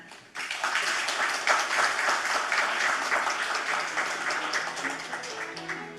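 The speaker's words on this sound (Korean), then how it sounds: "여러분들의 큰 박수 부탁드리도록 하겠습니다." An audience at an international peace symposium bursts into sustained applause, many hands clapping steadily for several seconds before it begins to taper off.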